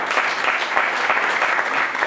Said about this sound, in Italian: vorrei fare un forte applauso anche a, diciamo, a queste parole